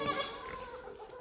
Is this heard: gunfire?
no